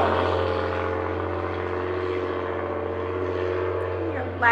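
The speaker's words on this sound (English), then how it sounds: "Loud little sports car." A loud little sports car drones past with a steady engine hum that holds for several seconds before fading at the end.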